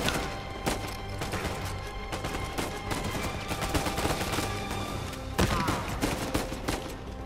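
Intense gunfire in the video game Uncharted 4, with dense bursts of shots, automatic fire and crashing impacts packed tightly together, loud and continuous over about seven seconds with no voices.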